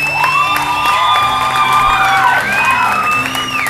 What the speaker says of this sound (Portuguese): Eu quero ouvir aqui um forte aplauso